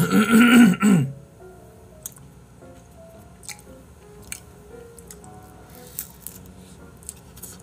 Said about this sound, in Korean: 목에 자꾸 가래가 걸려서 자꾸 헛기침하게 되네